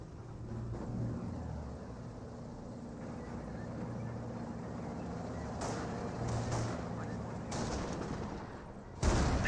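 Gunfire in the WWII strategy game Company of Heroes 1, US against Panzer Elite: faint, scattered shots over a low battle rumble, with a few sharper cracks later and a louder one right at the end.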